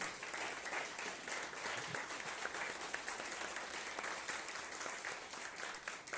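Church congregation applauding during a sermon, a dense, continuous wash of many hands clapping at steady loudness throughout, with no voices standing out.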